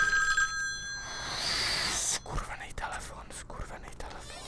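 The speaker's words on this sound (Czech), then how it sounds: "Skurvený telefon." An old telephone rings in the horror video game Daylight, bright repeated rings for about two seconds, then eerie ambient rustles and thumps follow as someone speaks quietly over the game sound.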